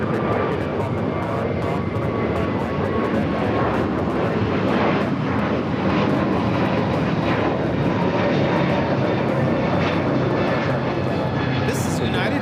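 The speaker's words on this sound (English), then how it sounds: "This is United Airlines 299 taking off to Denver, Colorado on the A321neo" A United Airlines A321neo takes off from LAX bound for Denver, its jet roar rumbling steadily and loudly throughout, with voices murmuring faintly underneath.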